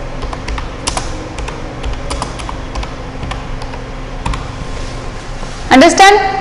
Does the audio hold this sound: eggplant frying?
no